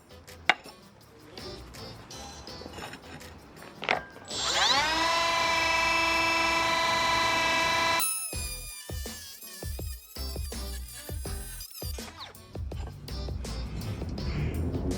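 A Milwaukee 12V cordless brushless cut-off tool whines up to a steady high-pitched cutting tone for several seconds while dry-cutting 4x12 subway ceramic tile, then winds down amid clatter and handling noises.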